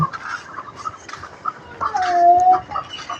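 A naked-neck hen clucking among other farm birds, a few soft clucks followed by a louder drawn-out call, fairly close in a quiet yard.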